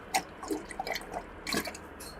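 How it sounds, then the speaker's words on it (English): Thick goo pours and drips out of the back of a creature in a video game, a quiet wet series of small splashes and drips, close by with no talk. "You can hear the goo like just sort of pouring out the back."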